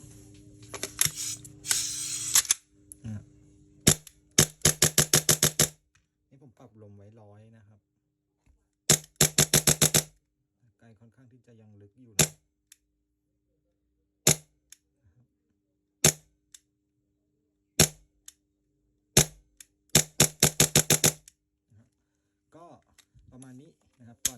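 A Hi-Capa 5.1 airsoft BB gun with stock parts and an AW Custom magazine is test fired: sharp, near clicks and cracks come singly and in quick clusters, with someone speaking between the shots.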